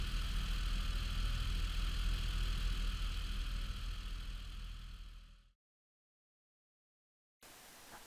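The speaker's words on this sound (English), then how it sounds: "this is what idle sounds like without the pump running" A car engine idling without the secondary air pump running, a steady low rumble close by that fades and cuts out before a brief quieter return at the end.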